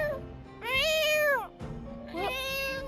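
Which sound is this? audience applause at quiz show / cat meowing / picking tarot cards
cat meowing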